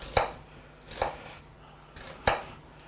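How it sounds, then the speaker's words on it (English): A knife chops an onion into large pieces on a cutting board, three separate crisp thuds spaced about a second apart, close and clear, with no talk. "So let's cut the onion, as I always do"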